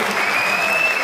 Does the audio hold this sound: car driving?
no